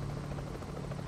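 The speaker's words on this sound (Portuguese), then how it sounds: "precisou até do helicóptero" Helicopter rotor in the Euro Truck Simulator 2 video game, a steady close thumping drone with a low pulsing hum held evenly throughout, no voices over it.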